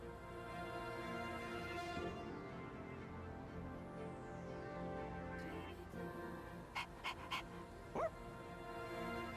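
A dog in Persona 3 Reloaded lets out a few short yips and barks near the end, set against steady game music that fills the background throughout.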